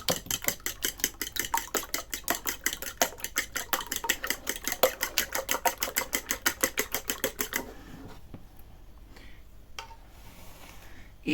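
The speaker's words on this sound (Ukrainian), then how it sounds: "Беремо два яйця, вилочкою їх збовтуємо" A fork quickly whisks two eggs in a bowl, giving a fast, even run of close clicking strokes that stops toward the end, followed by a few quieter knocks.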